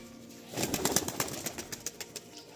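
Giribaz pigeons released to the ground, with a burst of quick, close wing flaps in a fast, uneven series, joined by faint cooing.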